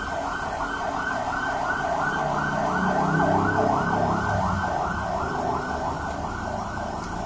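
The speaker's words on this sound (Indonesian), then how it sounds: "Ya ambulan." A wailing ambulance siren cycles up and down continuously, fairly loud, with traffic rumble underneath and no talking.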